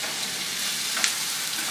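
Onions frying in hot oil for bawang goreng, a steady sizzling hiss at moderate loudness throughout, with one brief sharper crackle partway through and no talking.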